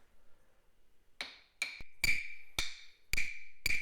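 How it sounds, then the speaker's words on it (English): Sharp hollow wooden knocks strike six times at a steady, quickening pace, each crisp and close, following a brief quiet moment. "Got just a plain wood block."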